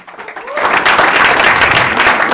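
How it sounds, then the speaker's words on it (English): After a construction seminar, the audience starts clapping, building quickly from near-quiet into a brief, full burst of applause. "Clap your hands if you did."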